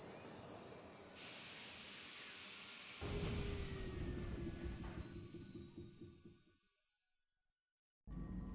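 A spaceship makes a rough landing in Star Wars: Knights of the Old Republic, with a roaring, screeching descent that swells into a heavy rumble, fades away to near silence, then a sharp noise cuts back in.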